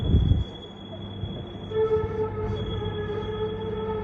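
Steel wheels squeal on rail as a Boston Ashmont–Mattapan light rail trolley rounds a bend: a low rumble first, then a sustained high-pitched whine that holds steady to the end.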